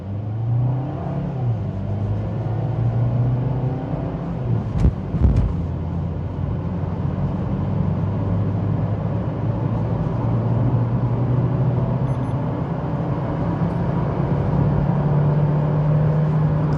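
A 2024 Maruti Suzuki XL6 automatic drives off and accelerates, with a steady engine drone and rising hum under wind and road noise, plus a brief knock partway through.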